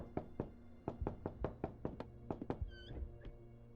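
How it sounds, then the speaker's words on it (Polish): Repeated knocking on a door inside the Booze Masters video game, a series of about a dozen hollow thunks in quick irregular bursts, fairly close and clear, with a brief higher tonal sound partway through and no talking. "Ktoś puka?"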